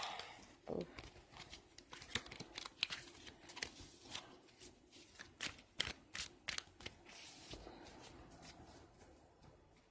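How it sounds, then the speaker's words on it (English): Tarot cards are cut and shuffled by hand, with soft crisp riffles and slaps of the deck recurring through a quiet, close stretch. "I'm about to get ready to cut this deck"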